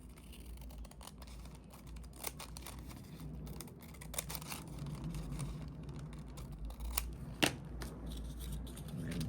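Scissors trimming upcycled envelope paper for a junk journal, a few quiet, close snips and paper rustles over a low steady background hum.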